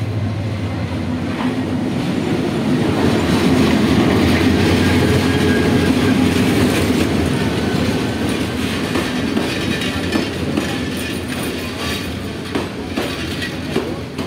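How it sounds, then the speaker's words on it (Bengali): A train rolls into Kulaura Junction in Sylhet, heard from the station overbridge: a loud, steady rumble with rhythmic clickety-clack of wheels on rail joints and faint wheel squeal, continuous throughout. "ফাইনালি গাইস ট্রেন চলে এসেছে।"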